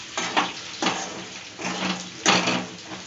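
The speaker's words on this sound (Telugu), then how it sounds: "ఒకసారి కలుపుకుందాం" Potato curry being stirred in a pan: four slow, scraping sweeps of a spoon over low simmering sizzle, each rising and fading, close and moderately loud with no speech.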